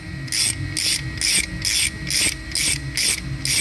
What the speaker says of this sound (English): and then just ratchet away